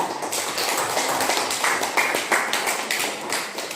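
Students in a classroom clapping their hands in a short, steady round of claps, close and fairly loud, with a few quieter voices underneath.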